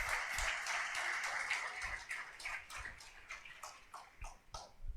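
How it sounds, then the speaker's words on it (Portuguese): A church congregation claps during a sermon, a steady wash of hand claps with some louder, sharper claps standing out toward the end, moderately distant and fairly faint. "Então aplauda e glorifique"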